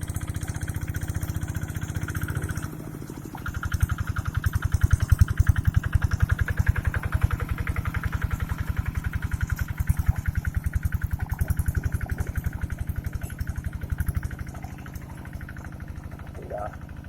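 A small hand tractor engine in a rice paddy chugs steadily up close with a rapid, regular thumping putter that runs for most of the stretch, after a brief lower idle at the start.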